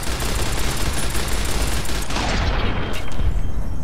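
Gunfire in the video game Fallout New Vegas rattles continuously in a dense, loud barrage of rapid shots, with a few heavier bursts near the end.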